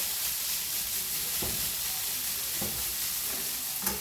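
Leftover potato skins filling sizzles as it warms in a hot pan, a steady hiss of frying with a few soft scraping stirs, close and alone.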